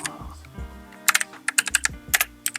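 Keys tapped on a computer keyboard while writing Python code for a Discord bot, a close run of quick clicks in short bursts with brief gaps and a low murmur of voice between them.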